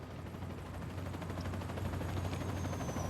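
Helicopter rotor thrum with rapid gunfire in Crisis Core Final Fantasy VII Reunion, a steady low chopping drone overlaid by fast repeated shots, fairly faint and continuous without speech.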